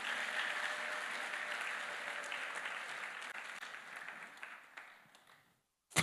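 Church congregation applause, a steady, fairly faint wash of clapping that fades out near the end and is followed by a brief sharp knock.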